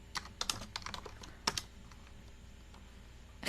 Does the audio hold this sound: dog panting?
no